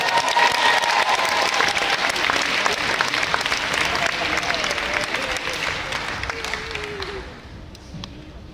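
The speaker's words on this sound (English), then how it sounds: "give them a huge round of applause, ladies and gentlemen" Loud, dense applause from a crowd greeting a school dance group at an academy event, steady at first and slowly thinning toward the end, with faint voices mixed in.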